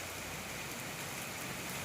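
A rain shower pours steadily outdoors, a brief, even hiss of falling drops with no other sounds.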